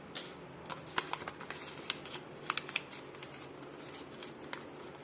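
A sheet of paper is folded close by: soft crinkling and crisp creasing with scattered sharp rustles and taps, continuous over a few seconds with no talking.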